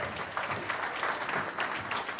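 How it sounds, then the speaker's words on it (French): An audience applauds warmly to welcome a chikha singer arriving with her violinist, a dense, steady burst of clapping filling the room without pause. "on l'applaudit bien fort"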